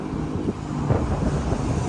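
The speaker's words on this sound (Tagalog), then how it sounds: "Dito si Bobby, lakas ng hangin." Strong wind buffets the microphone outdoors in a continuous low roar, with faint traffic-like rumble underneath and no voices.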